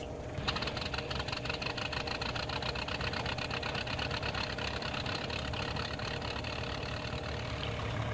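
The piston engine of a DHC-1 Chipmunk in Flight Simulator X cranks and catches, then settles into a steady, even rattling run. The engine sound is continuous and fairly quiet, with no speech.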